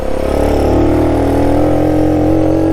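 A 1969 Honda Trail CT90 motorcycle engine labors and bogs down in soft desert sand, a steady loud strained drone holding a low, dragging pitch throughout with no talk.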